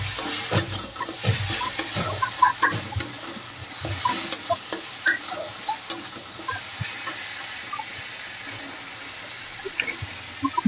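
Masala and potatoes fry in oil in a pan for a fish curry, giving a steady close sizzle broken by frequent scraping and clinking stirs, with no voices.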